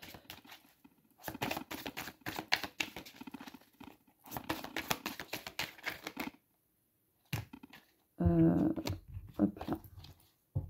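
Tarot cards are shuffled by hand, a close, fairly quiet run of rapid papery riffling and flicking in two bursts, then a few softer slaps and taps of cards being set down.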